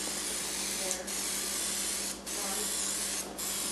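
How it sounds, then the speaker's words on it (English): Three short hissing sprays of olive oil from a pump mister onto prime rib, spaced about a second apart, over a steady low background hum. "spray a little bit of olive oil on them"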